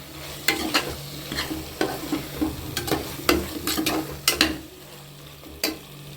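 Brinjal pieces sizzle in a hot pan as a spoon scrapes and stirs them in repeated sharp strokes, loud and close, then tapers off near the end.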